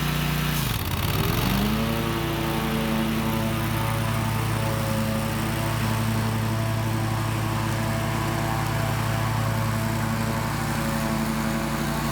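A Toro TimeCutter riding lawn mower's engine drones steadily and loudly close by while cutting very tall grass, bogging briefly near the start before settling into an even hum.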